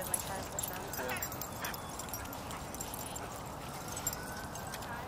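Dogs play together at a dog park, with steady scuffling, panting and faint yips blending into an even outdoor wash of sound, fairly distant and without clear distinct barks.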